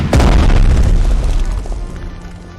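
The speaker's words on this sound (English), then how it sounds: "Fire. Commence the barrage." A heavy artillery barrage booms in the Strategic Mind strategy game, one loud deep blast with a rumbling tail that fades over about two seconds, with no talking.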